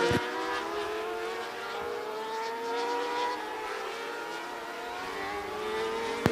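A race car lapping Wall Stadium Speedway during Turkey Derby qualifying, its engine howling steadily with rising and falling pitch as it circles the track, loud and continuous.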